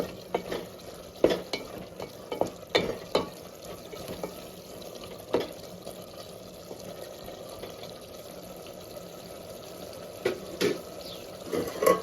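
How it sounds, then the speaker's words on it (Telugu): Tomato pieces being stirred into bottle gourd dal, with repeated spoon scrapes and knocks against the pot over a soft simmering hiss and no talking. "ఇప్పుడు కూడా బాగా కలుపు కలపాలి"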